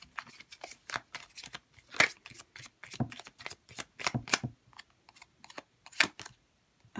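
Tarot cards are shuffled and drawn by hand in rapid, irregular bursts of crisp riffling and flicking, close and fairly quiet, with brief pauses between flurries.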